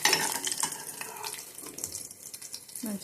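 Drinking water poured into a pan of fried tempering with dried red chillies for a traditional rasam: a steady, close splashing rush that runs throughout.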